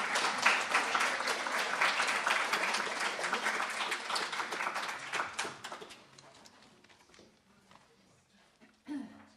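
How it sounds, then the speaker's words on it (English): Audience applause for the actors at a stage performance, a dense burst of clapping from the start that thins and fades out after about six seconds, followed by a brief thump near the end. "can we have a round of applause for our actors tonight?"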